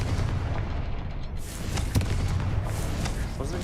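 An explosive Confringo blasting spell in Hogwarts Legacy: a loud rumbling boom with a sharp crack near the middle, set within a steady roar of game noise and thumping impacts.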